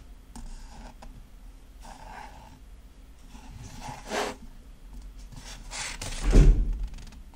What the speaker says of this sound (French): Il y a une porte qui a claqué.